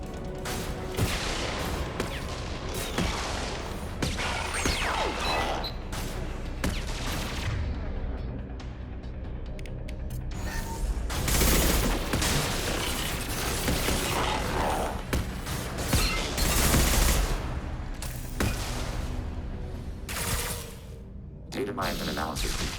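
Turret gunfire in Mass Effect: Legendary Edition, loud dense bursts of shots and booms running almost continuously, with heavier surges of firing and game sounds layered over a voice talking.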